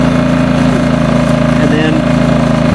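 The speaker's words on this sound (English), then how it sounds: "It's a good running generator." Generac iX2000 2000-watt inverter gas generator running steadily at close range, a constant loud droning engine hum with a fixed low tone and no breaks.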